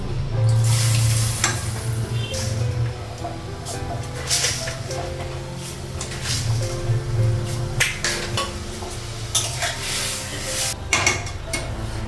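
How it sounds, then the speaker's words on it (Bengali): Semolina (suji) roasted until reddish sizzles in a pan after water is poured in, a steady close hiss joined by occasional clinks of a spoon against the pan. "সুজিটা একটু লাল করে ভাজলাম আর জল লাগিয়ে দিয়েছি"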